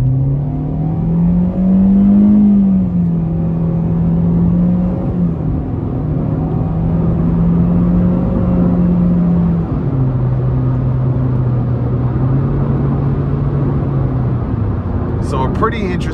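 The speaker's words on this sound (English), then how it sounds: "So a pretty interesting sound getting up to speed here with the CVT" Inside a 2022 Chevrolet Spark hatchback with a CVT at full throttle, a loud, steady engine drone holds a nearly constant pitch, rising slightly and then dropping as the transmission adjusts while the car gathers speed.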